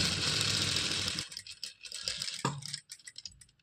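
A sewing machine stitches the fall onto a saree with a fast, buzzing whir for about a second, then slows into softer uneven rattles and clicks, close by.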